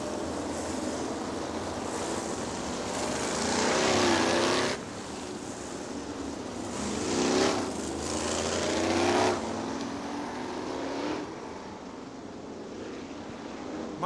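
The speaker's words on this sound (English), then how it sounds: "Bill Johnson in car number 33 stopping on the main straightaway." A sprint car races on the dirt oval at Hartford Speedway, its engine swelling and fading in long passes over steady loud track roar, with no talk.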